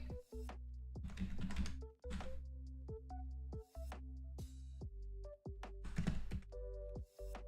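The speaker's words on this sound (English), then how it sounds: "My keyboard is really loud, I'm sorry." A loud computer keyboard clacks in quick irregular runs of keystrokes, broken by brief gaps, close-up over a low steady hum and faint tones.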